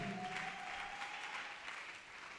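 A church congregation claps in a brief burst of applause, moderately distant and fading slightly toward the end, with a faint tone lingering at the start.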